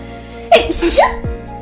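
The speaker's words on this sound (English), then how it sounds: "I'm gonna sneeze." A single loud, close sneeze with a sharp breathy burst and a short vocal tail, from someone who is about to sneeze.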